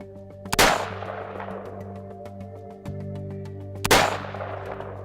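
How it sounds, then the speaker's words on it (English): Two loud, close gunshots fired at targets about three seconds apart, each a sharp crack with a ringing decay, over a steady background hum. "What were you shooting at over there?"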